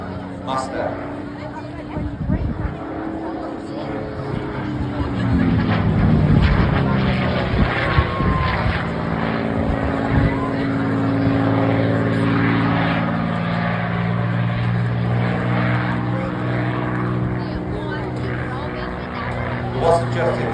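A Merlin-powered Mustang flying past at the Blackpool airshow, a loud propeller engine drone swelling and fading with a shifting pitch as it passes, under a commentator's voice and crowd murmur.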